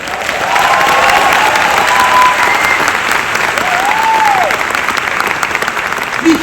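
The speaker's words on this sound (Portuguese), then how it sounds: "Eu quero um grande aplauso para os diamantes." An audience at a Visionary Tour event in São Paulo gives a sustained round of applause, loud and steady clapping from a large crowd that fills the whole stretch.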